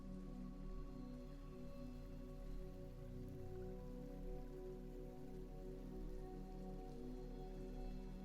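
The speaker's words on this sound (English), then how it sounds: "The rain keeps falling." Soft, continuous rainfall hisses evenly, with a steady low hum beneath it.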